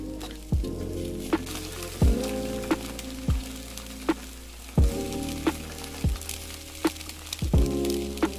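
An egg frying in a pan for breakfast, a steady close sizzle with frequent sharp pops and spatters crackling at irregular intervals, no talking.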